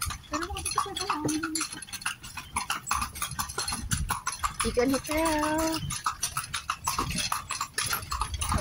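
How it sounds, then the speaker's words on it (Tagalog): Horse hooves clip-clop steadily on pavement in Vigan, Philippines, while people talk nearby over street noise. "Pagod ang kabayo nito, no?"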